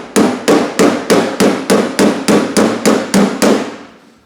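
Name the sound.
hammer striking metal door skin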